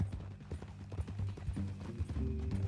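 Horse hooves clip-clop at an easy walk in Red Dead Redemption 2, a soft, fairly faint uneven rhythm of hoofbeats on the ground with no voices over it.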